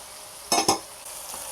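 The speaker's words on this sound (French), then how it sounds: "Cette odeur de poitrine qui cuit là, c'est trop bon." Pork belly fries in a pan with a steady soft sizzle, broken by two sharp, louder bursts of stirring or scraping close by.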